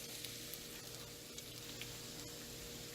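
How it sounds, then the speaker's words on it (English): Onion and bacon sizzle and fry in a skillet while being stirred around, a dense, continuous crackling hiss with faint scraping from the utensil. "Now I've added back in the onion and the bacon, so I'm going to stir that around for a little bit."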